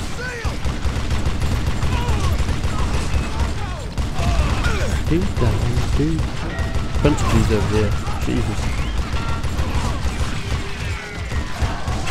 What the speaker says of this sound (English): I'm getting shot at up there